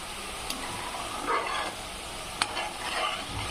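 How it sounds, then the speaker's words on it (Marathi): Egg curry masala frying in a pan over low heat, a steady soft sizzle with light stirring scrapes and a couple of sharp clicks, close and moderately quiet, no talking. "आपला मसाला फ्राय होत आहे।"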